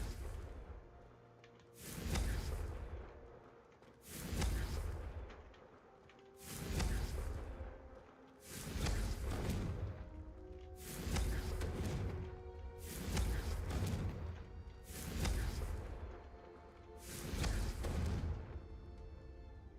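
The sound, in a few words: Confringo spell cast in the video game Hogwarts Legacy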